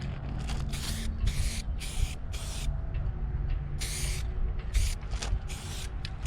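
Spray paint applied in thin coats around the edges of holes during maintenance on a Hallberg-Rassy 54 sailboat, heard as repeated short bursts of aerosol hiss, close and fairly loud, over a steady low background hum.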